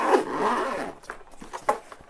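A zipper is pulled closed around a small flexible nail polish storage case, a close rasping run followed by a few short scraping tugs near the end.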